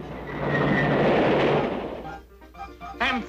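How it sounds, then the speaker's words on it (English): A cartoon train rumbles loudly along railroad tracks for about two seconds, then fades out as brief voices and a short squeaky cartoon sound follow. "I think there is a train approaching"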